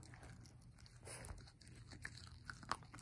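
An Australian Terrier puppy chews on a toothbrush, making faint scattered crunching and biting clicks close by against a quiet room hum.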